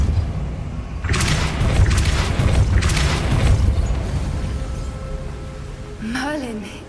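A Depulso spell cast in Hogwarts Legacy sends a loud burst of rushing, whooshing force lasting a few seconds, fading out before a short rising magical chime near the end.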